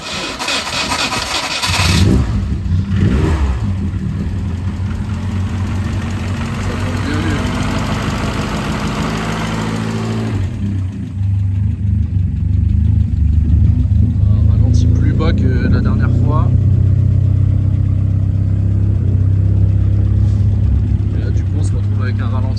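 A Ford Sierra Cosworth engine with an intake restrictor at the turbo runs loud and close, idling with a steady low rumble before revving up under a light load, with speech over it.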